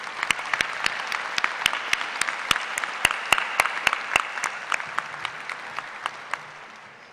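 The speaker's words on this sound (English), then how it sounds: "Please join me with a round of applause for these individuals." Sparse applause at a university graduate school commencement ceremony: a handful of distinct, separate claps ring out in an irregular rhythm over a quiet hall, thinning and fading toward the end.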